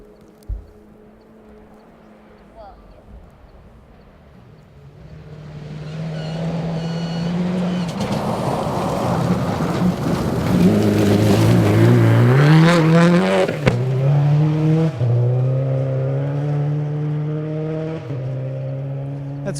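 A rally car on a gravel stage of the 2012 Olympus Rally approaches from a distance, its engine growing louder and revving through gear changes as it passes close by, then fading; no talking over it.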